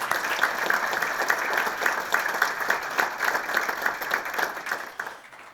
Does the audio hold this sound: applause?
yes